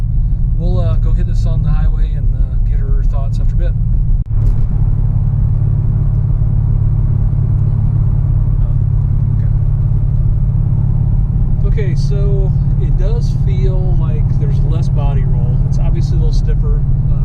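A C6 Corvette, fitted with replacement shocks and sway bars, cruises along a highway with a steady low engine and road rumble throughout, while people talk inside the cabin over it.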